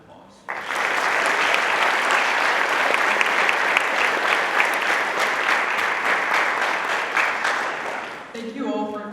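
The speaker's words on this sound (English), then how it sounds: "Please join me in thanking them with a round of applause." An audience at a National Honor Society induction ceremony breaks into dense, sustained applause that starts abruptly and fills the room for several seconds before tapering, with a voice speaking at the very end.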